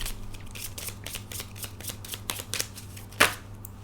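Tarot cards shuffled in a run of quick, soft riffling bursts at close range, with a sharper snap near the end and no talking.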